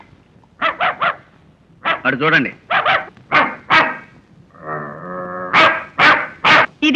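A man imitates a dog, giving a string of loud, close barks and yips in quick bursts, with a short stretch of ordinary speech in between.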